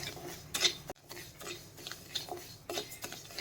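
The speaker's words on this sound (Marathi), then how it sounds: "भाजत असताना हलवत राहायचं म्हणजे एकसारखं भाजलं जातं सगळीकडून" Rice is dry-roasted in a pan for metkut while being stirred, with quiet spoon scrapes and light clinks against the pan coming in a loose rhythm.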